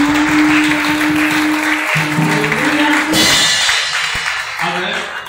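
A church congregation at a Sunday service claps and cheers, a dense, steady wash of applause with voices mixed in, tapering slightly toward the end.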